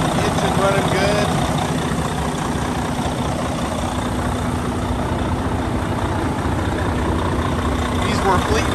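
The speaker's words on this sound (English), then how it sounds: "Engine running good." A 2013 Freightliner Cascadia 125 truck's heavy diesel engine idles steadily nearby, a constant low rumble and drone with faint rattling, loud and unbroken throughout.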